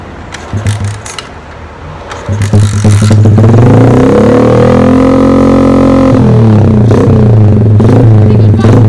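A dirt bike that leaks oil coughs and sputters as it is started, then catches and settles into a loud, steady running drone close by.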